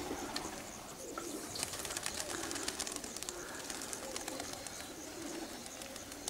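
Racing pigeons fly on a hot summer day in Veroia, Greece, in 2017. Faint, distant cooing and bird calls sit over a soft, steady outdoor background, and nobody speaks.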